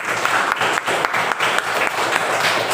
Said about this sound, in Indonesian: Dimohon anak-anak untuk tepuk tangannya buat ibu wali kelas kalian